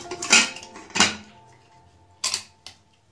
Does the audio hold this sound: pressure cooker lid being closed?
yes